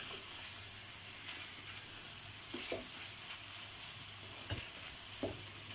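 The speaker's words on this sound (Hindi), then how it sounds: "ये सब कुछ हम बिल्कुल हल्की आंच पे कर रहे हैं" Chicken burger filling fries gently over a low flame, a steady soft sizzle with a few light scraping stirs of a spoon against the pan, close and quiet, without talk.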